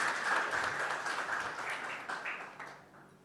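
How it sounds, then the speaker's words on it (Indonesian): A church congregation applauds at a Sunday service, a warm burst of clapping that slowly fades over a few seconds with no talking. "Kasih tepuk tangan buat Pak Danu."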